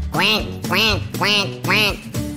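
A voice imitates a duck's quack four times in a steady rhythm, each nasal call loud and close, with short gaps between them.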